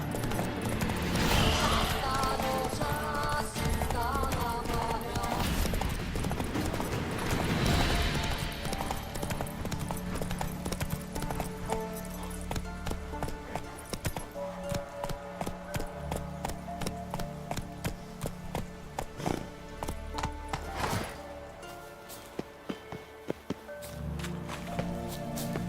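Horse hooves clip-clop at a steady walking then trotting rhythm in The Witcher 3, clear and close over game ambience, with brief voice in places.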